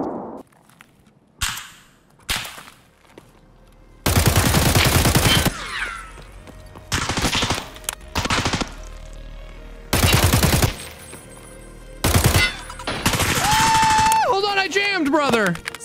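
Video game gunfire in an extraction shooter, with sharp bursts of rapid automatic shots repeating in loud clusters, broken by gaps and mixed with other game noise.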